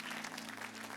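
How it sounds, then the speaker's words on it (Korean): A church congregation at a Christmas worship service breaks into steady, dense applause, a continuous wash of many hands clapping with no pauses. "우리 하나님께 영광의 박수 올려드리겠습니다."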